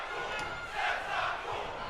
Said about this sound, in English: Fans are booing him.